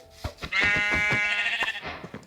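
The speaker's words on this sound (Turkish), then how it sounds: "Aha koyun." A sheep in the game Minecraft bleats nearby, loud and wavering, in a couple of quick bursts with light game sounds around it.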